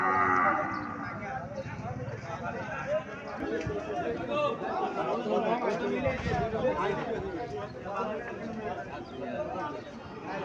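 Cattle and small calves low and moo amid a busy livestock market, their calls mixed into steady crowd chatter and bargaining voices throughout.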